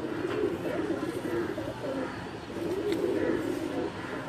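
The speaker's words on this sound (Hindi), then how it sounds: "फिरोजपुरी कबूतर और सियालकोटी कबूतरी वाले।" Ferozpuri and Sialkoti pigeons cooing in a loft, soft repeated throaty coos rising and falling in a gentle rhythm, fairly close and moderately loud with light background noise.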